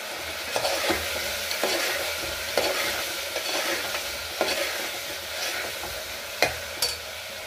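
Pre-fried chicken pieces sizzle in a pan with tomato while a spoon stirs and scrapes them in irregular strokes, close and steady.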